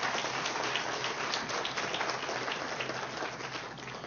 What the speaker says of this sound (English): give both of them a big, big round of applause